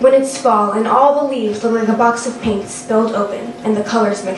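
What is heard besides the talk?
No everyday noise stands out behind the speech.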